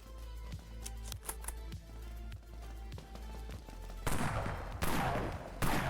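Rust Hound weapon fired in the online shooter Dead Frontier, a string of sharp low thumping shots with bursts growing louder and harsher toward the end, no talk over it.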